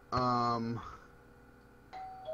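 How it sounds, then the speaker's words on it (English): A doorbell ringing in a home, one bright electronic chime close by and then a second shorter chime a moment later. "Ring the fucking doorbell more."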